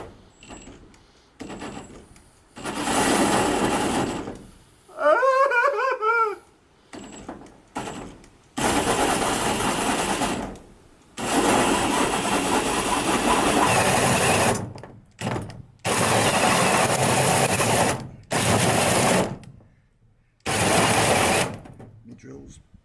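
A power drill whirs in repeated bursts of several seconds each with short pauses between them, loud and close, while a person talks during the gaps.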